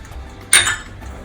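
A utensil clinks once against a bowl while sponge cake batter is mixed, a single short, bright scrape over near silence.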